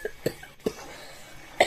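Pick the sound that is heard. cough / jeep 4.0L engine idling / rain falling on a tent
cough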